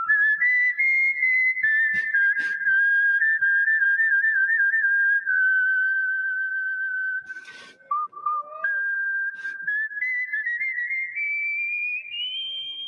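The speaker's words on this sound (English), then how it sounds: "Here's somebody whistling the national anthem" A whistling champion carries the Star-Spangled Banner through long held, slightly vibrato notes, loud and close, with a small dip and pause midway before climbing toward the high phrase at the end.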